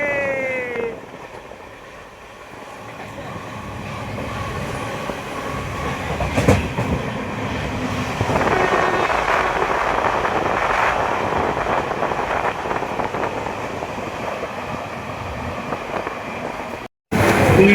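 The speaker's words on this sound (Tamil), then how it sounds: "ஓ ஐயோ, செம்ம ஸ்பீடாக போகுது ட்ரெயினே." A passenger train on the Bangalore to Murudeshwar route runs at speed, heard from on board as a constant loud rumble with rail clatter and wind rush, growing louder partway through.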